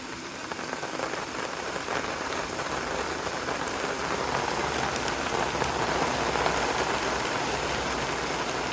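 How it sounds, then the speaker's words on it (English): Steady rain falls outdoors in a dense, continuous hiss of drops on surfaces, even in level throughout with no voices. "I don't know how long it's supposed to rain."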